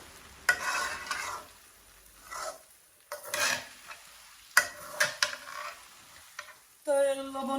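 Sylheti birun rice frying with ghee and salt is stirred in a pan, giving intermittent scraping and rasping strokes with soft sizzling between them, close and fairly quiet with no talk.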